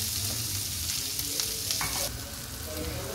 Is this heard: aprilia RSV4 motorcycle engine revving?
no